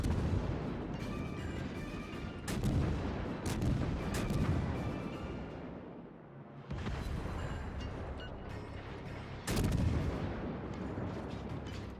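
Naval gunfire in World of Warships, heavy booming artillery salvos rolling out in repeated bursts with long rumbling tails, a short lull midway before more blasts, loud and dominant.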